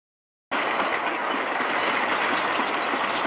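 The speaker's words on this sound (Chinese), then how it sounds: "火车经过大安溪桥" A train rolls past close by on the Da'an River bridge in Taiwan after a brief silence, its wheels rattling in a steady, loud clickety-clack that fills the whole clip.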